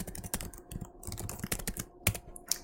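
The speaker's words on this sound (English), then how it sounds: "just type in this line of code, utility.start application" Rapid, continuous clatter of keys on a computer keyboard as a line of code is typed, close and fairly loud, with a few sharper louder keystrokes near the end and no talking.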